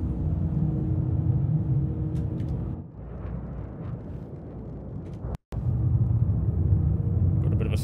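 Storm rumbling in the Star Citizen video game, a steady low, dense rumble that sits close and constant with a brief dropout near the end, no speech.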